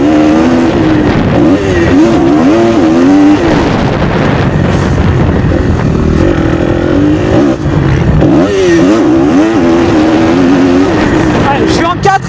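A loud 2015 Kawasaki KX-F dirt bike engine revs and accelerates close by, its pitch climbing and dropping repeatedly, with heavy wind noise buffeting throughout.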